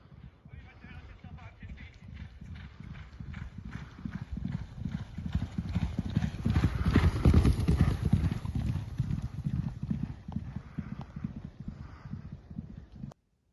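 A young yearling horse's hooves clip-clop steadily and quite loud, a continuous run of close, even hoofbeats that swells in the middle and then stops abruptly.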